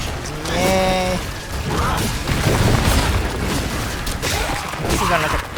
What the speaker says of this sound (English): lots and lots of explosions. Nothing but explosions.